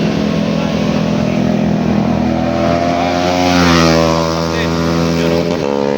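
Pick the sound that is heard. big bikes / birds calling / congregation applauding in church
big bikes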